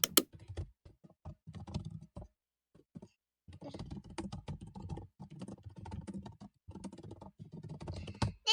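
Close, quick clattering keystrokes on a computer keyboard come in bursts separated by short pauses, with one longer gap before a sustained run of typing.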